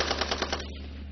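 A machine gun fires at a military marksmanship competition for special forces soldiers, a rapid, loud, evenly spaced burst of about six shots that then stops, leaving a ringing echo.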